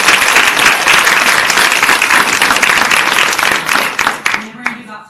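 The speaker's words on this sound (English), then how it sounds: "So one more round of applause." Dense applause from an audience at a Women in Sports event, loud and sustained for several seconds, then thinning into scattered claps before fading.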